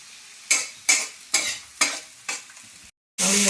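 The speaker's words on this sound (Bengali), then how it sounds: "এটা একটু ভাজা ভাজা হোক।" A masala of tomato, green chilli, cumin and ginger fries in a little oil, with five rhythmic spatula strokes scraping the pan, then a steady close sizzle after a brief pause.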